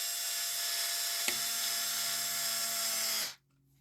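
A cordless power driver runs nonstop at high speed, spinning screws into nuts on a P51 model zip-tie mod, with one brief click partway through before the whine cuts off sharply near the end.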